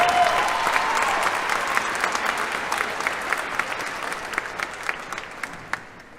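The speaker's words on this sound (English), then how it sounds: "Please join me in applauding the top 10 of the graduating class" Sustained applause from a graduation ceremony audience honoring the top ten graduates of the class of 2022, a dense steady clapping that holds for several seconds and slowly thins toward the end.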